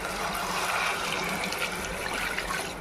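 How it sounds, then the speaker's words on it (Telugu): Water pours steadily into a pot of chicken curry being cooked without masala, a continuous close, even trickling gush lasting the whole moment with no voices over it. "వాటర్ పోసుకుందామండి."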